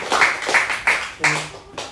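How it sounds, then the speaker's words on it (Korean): A church congregation claps in a handful of loud, distinct group bursts at a steady rhythm, each strike sharp and close, with a voice briefly underneath. "다시 한번 박수를 크게 한번 응원해 드릴게요"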